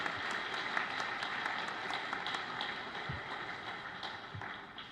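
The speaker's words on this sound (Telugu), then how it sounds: "సో ఒకసారి గట్టిగా చప్పట్లు కొట్టుకున్నాను." An audience claps together at a spiritual gathering on Guru Purnima, a dense, steady patter of applause that sounds soft and somewhat distant throughout.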